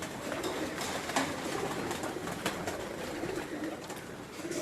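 House pigeons kept at a home in Gujranwala, softly cooing over a constant background hiss, with a few faint coos spread across a few seconds.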